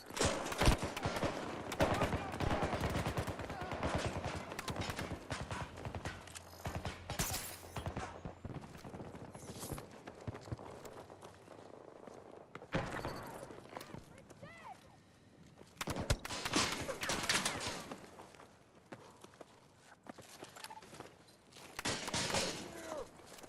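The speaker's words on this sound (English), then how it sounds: "They're shooting!" Bursts of gunfire in the video game Battlefield 2042 on PS5, on the Exodus map in Conquest mode, with sharp volleys and rapid fire rising and falling throughout, mixed with game effects and a voice talking over it.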